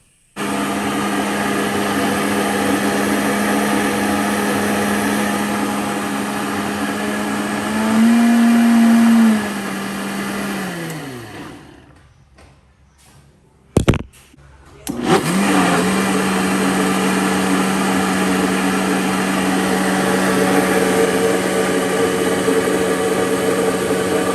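A blender blends frozen berries and banana with milk and yogurt into a smoothie, running loudly with a steady motor whine, shifting pitch as it churns, cutting off briefly around the middle, then starting again and running on.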